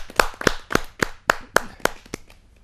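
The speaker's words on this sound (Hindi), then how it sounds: "जरा जोरदार ताली के साथ हम स्वागत करें" Audience members at a Hindi kavi sammelan poetry gathering clap in a steady rhythm, about nine crisp, evenly spaced claps at close range with no talk.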